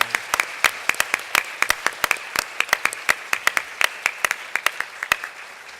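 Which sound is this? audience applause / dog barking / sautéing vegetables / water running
audience applause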